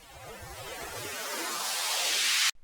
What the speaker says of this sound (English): I just have this white noise riser going into the last chorus